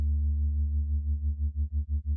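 A synthesizer sine tone sits steady and loud at first, then takes on a pulsing amplitude modulation that grows deeper and more pronounced toward the end, with no voice over it.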